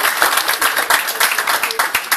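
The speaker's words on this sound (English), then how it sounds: "so I think a round of applause for him" Brief burst of audience applause at a political gathering for a Respect Party member, a quick run of close, loud claps in an uneven rhythm. Faint voices are mixed in beneath the clapping.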